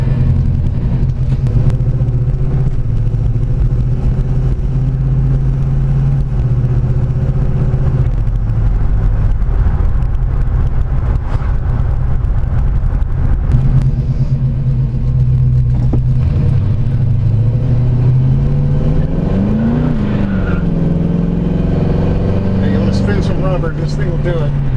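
A 1970 Chevrolet Chevelle Malibu Sport Coupe with a crate 350 V8 rumbles loudly while driving, its deep engine tone rising and falling as it revs and shifts, with talking over it.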